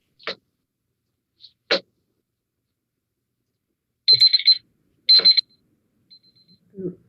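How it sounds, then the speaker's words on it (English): A timer alarm at a school board meeting beeps in two short, bright bursts in an otherwise quiet room, with a few faint knocks and a brief voice around them. "It's the timer at the end of the thing that I never let get there"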